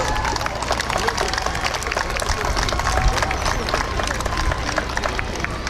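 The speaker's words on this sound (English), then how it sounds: "Give her a round of applause." An audience at a public-access stage show of school performances breaks into dense, sustained applause with scattered cheers. The clapping stays loud and even, filling the space from start to finish.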